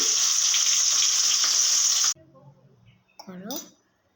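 Morola fish frying, a loud steady hiss of hot oil for about two seconds that stops abruptly, followed by quiet clatter and a brief voice.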